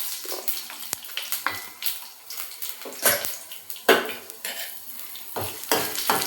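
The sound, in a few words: urad dal and chana dal being roasted in pan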